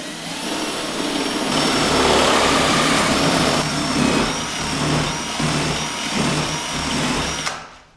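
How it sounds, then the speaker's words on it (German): A power drill bores out the thread of a metal knurled nut, giving a loud, continuous whining grind for several seconds that rises slightly in effort before stopping abruptly. "werde ein Loch in die Mutter bohren"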